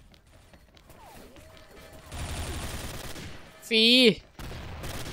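Rapid gunfire bursts from the Gold Dragon TAR rifle in the shooter game XSHOT crackle through busy in-game noise, capped by a loud bright electronic chirp, with a player talking briefly.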